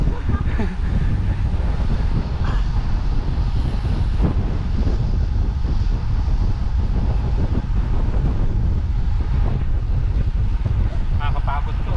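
Strong wind buffets the microphone during a cycling ride in a continuous low roar, with a voice talking faintly underneath.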